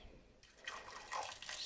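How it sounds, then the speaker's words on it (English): Water poured from a container over uncooked rice for a meatless fried rice, a soft, steady close splash and trickle that begins abruptly and continues briefly without talk. "what we want to do is pour enough water just to coat the rice"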